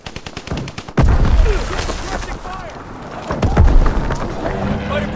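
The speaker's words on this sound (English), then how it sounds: "Enemy strafing run incoming!" Aircraft strafing run in Call of Duty WWII, a sudden loud burst of rapid machine-gun fire followed by further gunfire bursts and battle noise, with game voices calling out over the action.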